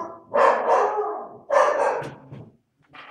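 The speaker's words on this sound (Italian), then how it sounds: "i miei cani abbaiano" Several dogs bark in loud, overlapping bursts close by, with a short pause and a fainter bark at the end, no talking.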